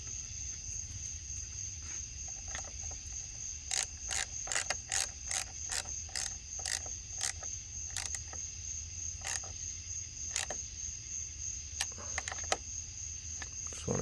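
A ratchet snugs an alternator bolt on a 2010 Honda Accord 3.5L V6, a fast run of sharp metallic clicks in bursts, close and crisp over a low background hum.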